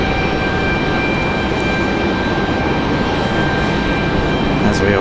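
American Airlines Boeing 737 MAX 8 arriving from Dallas Fort Worth at Raleigh-Durham International, a steady, loud broadband engine roar with faint tonal whine holding evenly through the whole stretch, no break or fade.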